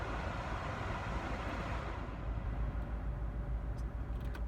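A car's heater fan blows on full blast, a loud, steady, broad whooshing roar of air that fills the cabin without pause, with no talking.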